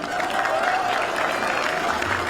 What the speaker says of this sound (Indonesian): Kita minta tepuk tangan dukungannya.